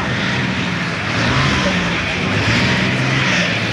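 An old Deutz tractor from Chiemsee roars at a 1992 tractor pulling event in Füchtorf, its loud, steady engine drone holding for several seconds, with a crowd or announcer faintly underneath.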